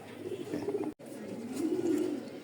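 Racing pigeon chicks coo softly and continuously in a loft, a low murmuring warble close by with a momentary break partway through.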